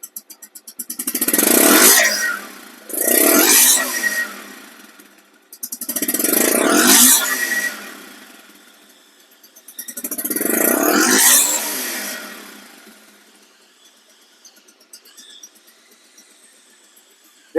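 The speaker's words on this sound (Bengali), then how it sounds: "সাইলেন্সারের শিমশিম শব্দটা যে অরিজিনাল নতুন গাড়ির যে শিমশিম শব্দটা দেখেন" Bajaj Pulsar DD ABS motorcycle engine revving through its silencer in four loud, separated throttle blips of a few seconds each, close by, with quieter idling between and afterward.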